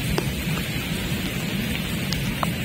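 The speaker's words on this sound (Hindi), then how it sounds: "काफ़ी बड़ी बारिश है" Steady heavy rain at La Prairie Beach, Mauritius, hisses continuously with a broad wash of noise and occasional louder drops, no voices.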